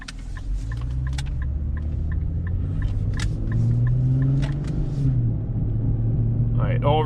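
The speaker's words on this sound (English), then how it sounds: "we got grinding brakes" An Infiniti M35x with 156,000 miles rolls along with steady low engine and road rumble, while faint repeated high-pitched scraping ticks run over the drone from grinding brakes.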